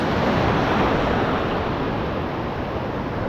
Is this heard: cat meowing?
no